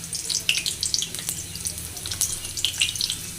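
Garlic hits hot oil in a pan, giving a steady crackling sizzle of fine, dense pops close up, with no talk.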